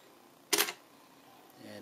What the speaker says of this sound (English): And it does trigger the shutter.